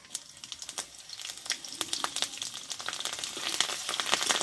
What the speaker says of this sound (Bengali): তো কাঁচা লঙ্কা আর পাঁচফোড়নটা ভালোভাবে ভেজে নিয়েছি